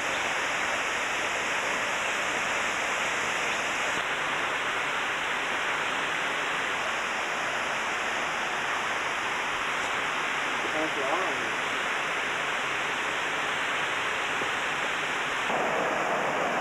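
A jungle waterfall on Ko Samui, Thailand, roars as a steady, dense rush of falling water, with faint voices occasionally under it.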